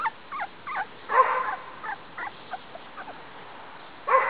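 Puppies whimpering in short, high whiny cries, several in a row with brief pauses, close by and fairly soft.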